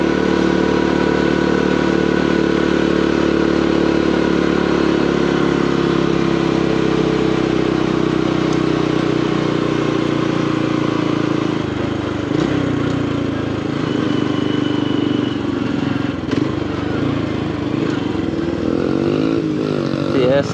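Yamaha TTR 125 dirt bike engine running nearby during a ride on a Honda Trail 125, a loud steady mid-pitched drone with a shifting tone and clattering toward the end, mixed with wind noise.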